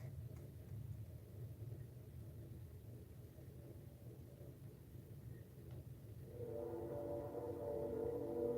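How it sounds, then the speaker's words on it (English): A train passes outside, a steady low rumble that swells and grows louder toward the end, heard from a distance through a room. "That train going by right now."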